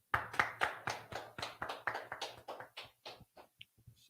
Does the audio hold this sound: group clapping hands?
yes